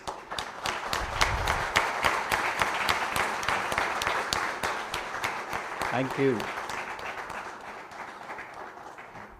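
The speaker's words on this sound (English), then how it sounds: "you as students need to give them a big round of applause" Students at a ceremony break into a big round of applause, many hands clapping loudly and steadily before it tapers off, with a short spoken thanks partway through.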